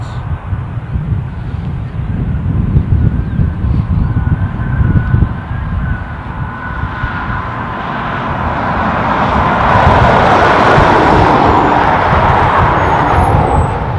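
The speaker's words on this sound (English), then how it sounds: "So, far side arrival is an Aer Lingus A330 from Amsterdam." An Aer Lingus A330 arriving from Amsterdam on the far side at Dublin airport, heard as a broad, distant jet roar that swells and grows louder toward the end, with wind buffeting the microphone.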